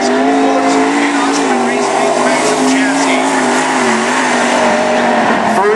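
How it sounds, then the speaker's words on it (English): A race car at Cottage Grove national qualifying makes a loud, steady engine drone as it runs past on the track, a sustained high-revving roar that stays close and dominant for several seconds. "Mike Carruthers out on the racetrack in the Carruthers Automotive Machine."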